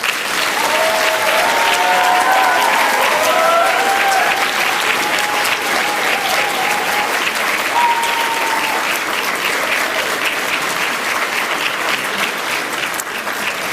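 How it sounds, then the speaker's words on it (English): A graduation ceremony audience at Aston University gives loud, sustained applause, thick clapping throughout with a few faint whistles or cheers riding over it near the start. "Please give them a huge and rousing round of applause."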